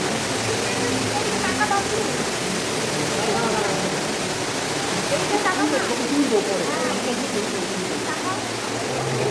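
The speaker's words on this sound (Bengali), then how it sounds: "ওপর থেকে নেমে আসছে জলের ধারা, কি সুন্দর ঝর্ণা।" Steady, broadband rush of falling water fills the space continuously, with faint voices murmuring underneath, like a waterfall echoing in an enclosed cave: Ruby Falls, an underground waterfall in Tennessee, USA.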